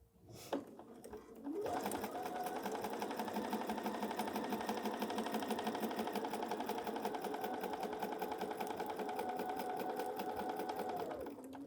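A sewing machine stitching quilt pieces runs in a steady, close whirring hum with fast regular needle clatter, starting after a brief click and running unbroken to the end.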